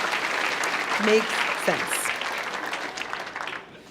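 An audience claps at a live stand-up comedy show, steady applause filling the room at moderate volume while a voice speaks briefly over it, then thinning and fading toward the end.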